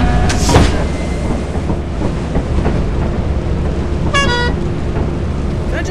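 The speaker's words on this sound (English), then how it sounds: "if you don't hear my honking" A vehicle horn honking in a video game, a short, sharp, bright toot near the end over a rumbling, noisy game soundscape, with a brief burst of another sound early on.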